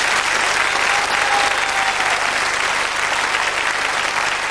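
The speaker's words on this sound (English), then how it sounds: "Ladies and gentlemen, a round of applause, please, for Steve." A 1995 British game show studio audience breaks into loud, sustained applause, a dense continuous wash of clapping that holds steady for several seconds with no talk over it.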